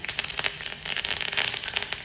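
Quick, irregular crackling and popping of curry leaves spitting in hot oil, continuing steadily for a couple of seconds with no voices.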